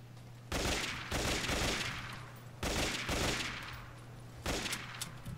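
A shotgun fires in the shooter game PRISM, four loud, booming blasts spaced a second or two apart, each with a long rumbling tail filling the gaps between shots.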